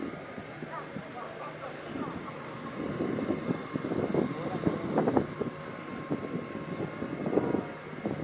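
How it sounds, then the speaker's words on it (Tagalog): Strong wind blows outdoors near a crowd at a waterfront with visible waves, heard as a steady broadband rumble and buffeting under crowd noise and voices. "Malakas pa kasi yung hangin, no?"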